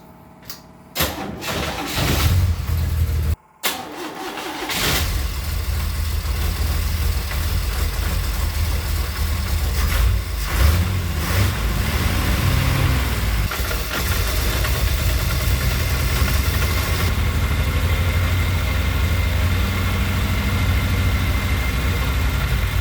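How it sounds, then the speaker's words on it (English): A GM 4.3L TBI V6 fitted in a 1932 Ford Roadster cranks briefly, fires up and settles into a loud, steady idle that runs on unbroken for about twenty seconds. "Now we'll see if the engine starts."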